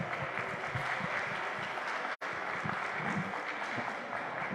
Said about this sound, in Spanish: le damos un aplauso, por favor